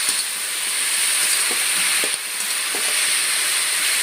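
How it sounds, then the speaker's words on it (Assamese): Local Assamese vegetables fry in a pan with a loud, steady sizzle and hiss, while a few faint scrapes and clicks of stirring come through close by, with no voices. "সেইখিনি ভালদৰে লৰাই লৈছোঁ"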